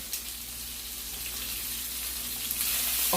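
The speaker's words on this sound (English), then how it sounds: "And keep letting that butter melt." Scallops sear in melting butter in a pan, giving off a steady bright sizzle and crackle that holds throughout, with a small pop near the end and no talking.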